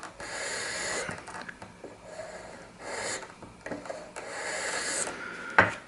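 A hand file rasps over a tobacco pipe stem as its exterior is reshaped, in several irregular scraping strokes with brief pauses between passes, close and fairly quiet.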